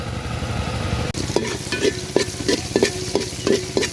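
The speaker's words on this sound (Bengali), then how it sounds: "পেঁয়াজটা খুব ভালোভাবে ভেজে নিব" Chopped onions frying in a pan, a steady close sizzle broken by about eight evenly spaced scrapes and clinks of a spoon stirring against the pan.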